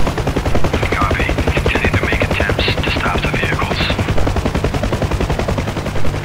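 Warning machine gun fire in the DCS UH-1H Huey helicopter sim, a loud, rapid unbroken stream of shots over the steady thumping rotor, with faint radio chatter partly underneath.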